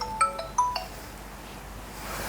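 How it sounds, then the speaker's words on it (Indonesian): A phone ringing as a call comes back in, a few short electronic tone bursts near the start that fade into quiet room noise. "Oh iya, dia telepon balik."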